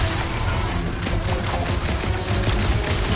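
Dense, continuous gunfire in a shooter game, fired close to a ship's reactor, with rapid overlapping shots and a constant loud roar of action running through the whole stretch.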